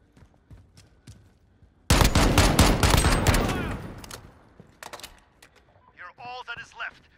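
Gunfire in the video game Call of Duty: Modern Warfare breaks out abruptly as a loud, dense automatic burst lasting about two seconds, then fades into scattered shots, followed by a voice speaking.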